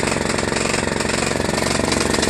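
A John Deere LA105 lawn tractor engine running rich, a loud, close, steady rapid chugging with a rough pulsing rhythm throughout.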